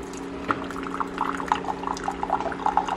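A new coffee machine dispenses hot water into a small cup, a steady trickling pour with bubbling drips over a low mechanical hum, close and continuous.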